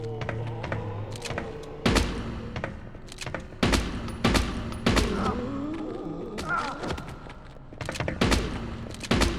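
Shotgun blasts in the video game PulseBreaker, repeated loud booming shots at uneven intervals mixed with thuds and impacts, close and dominant over a busy game soundscape.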